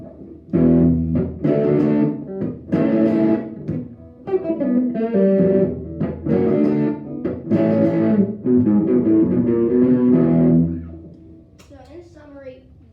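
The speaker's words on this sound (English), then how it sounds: "I'm going to turn the pedal on to activate distortion" An electric guitar riff with a gritty distorted tone, sustained chords and phrases played continuously for about ten seconds, then fading to a few faint notes.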